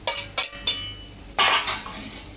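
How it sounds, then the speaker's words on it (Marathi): Metal spoon scraping and clinking against a pan while upma with fried potatoes is stirred, several separate knocks and scrapes in an uneven rhythm, close and fairly loud with no voices. "याला व्यवस्थित हलवून घेणार आहोत"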